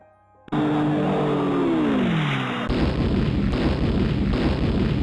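Loud WWII bombing-raid explosions and artillery-like blasts from 1944 offensive bombardment footage, starting abruptly after a brief quiet, with a descending whistle-like drone then a dense, continuous rumble of bursts.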